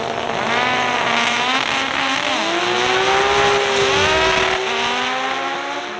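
A turbocharged race car boosting at a drag strip during a Gainesville Raceway event, its loud engine note rising and sweeping in pitch as it accelerates, with tire squeal and a close, continuous roar.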